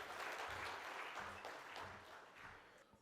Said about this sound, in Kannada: ಜೋರು ಚಪ್ಪಾಳೆ ಮುಖೇನ ಬರಮಾಡಿಕೊಳ್ಳೋಣ